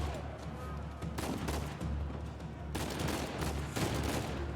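Gunshots and scattered bursts of automatic fire crack through a firefight in the action game Uncharted 4, with several sharp volleys over a steady low rumble.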